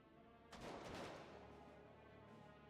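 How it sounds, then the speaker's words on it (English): A single gunshot in a video game rings out suddenly, loud and broadband, then decays into a lingering echo and low background rumble, with no talk over it. "Considering that was the sound of a gunshot."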